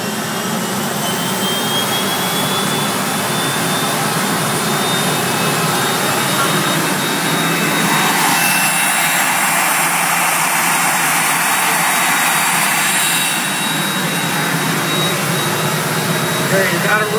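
A PT6 turboprop engine roars through its start and settles into a steady, loud run, with a high turbine whine over the broad rushing noise.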